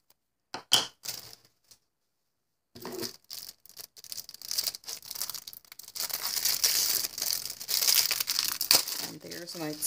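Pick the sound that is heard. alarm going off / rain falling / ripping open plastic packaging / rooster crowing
ripping open plastic packaging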